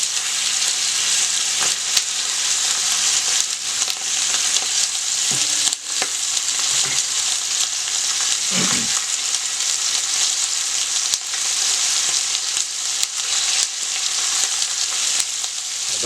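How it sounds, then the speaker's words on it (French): Floured veal osso buco shanks browning in a pan give a steady, loud, dense frying sizzle with no pauses, broken by a few soft knocks and scrapes as the pieces are turned to brown every side. "Donc maintenant on retourne notre viande, donc on va dorer toutes les faces de façon homogène."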